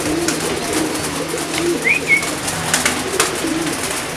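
Pigeons coo at a bird market with cages of pairs for sale, soft throaty calls repeating close by over a low crowd murmur and ambient noise.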